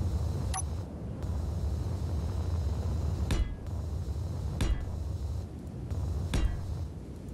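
Sharp metallic clanks and hits from grinding or drilling away a block in the Space Engineers game, spaced irregularly over a steady low mechanical hum.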